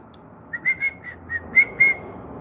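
A person whistles a short, bright tune in the garden, several clear separate notes close to the mic over a faint background hiss.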